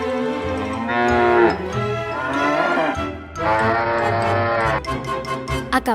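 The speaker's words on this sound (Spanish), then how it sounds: "Acabáis de escuchar el sonido de una vaca de verdad." A real cow moos loudly and close up in two long, drawn-out calls with a brief pause between them and no speech.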